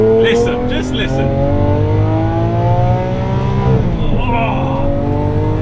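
A 2018 Lamborghini Aventador S engine accelerating hard onto a motorway. The steady rising roar runs loud and close throughout, climbing through the gears with a brief dip near the end. A voice speaks faintly under it early on.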